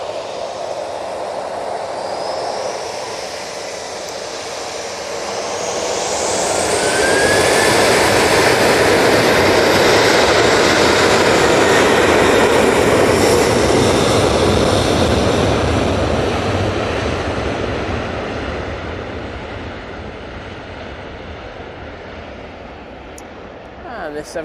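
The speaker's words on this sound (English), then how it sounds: "And this 737 is off to Corfu." A Boeing 737 jet at Manchester Airport roars past at a distance, swelling from a low rumble to a broad, loud whoosh at its peak and then fading slowly, with a rising whine audible early on.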